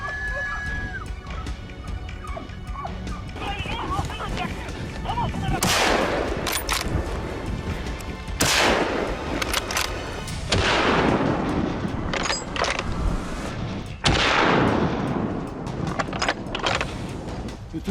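Hunters fire guns at wild boars in a series of loud, sharp gunshots spaced a couple of seconds apart, some close and booming, over a continuous outdoor rumble.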